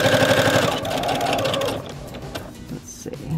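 A sewing machine stitching the folded hem of a wide-legged jumpsuit, a loud close rapid mechanical whirring that runs steadily for nearly two seconds, then slows and stops into quieter handling clicks.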